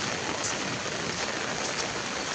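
Steady rain falling at night, a continuous even wash of drops on surfaces, close and unbroken with no voices.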